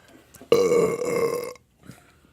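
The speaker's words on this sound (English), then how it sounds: "we're probably burping up everything we drank" One long, loud, throaty burp after drinking soda rolls out for about a second, close to the mic, between quiet moments.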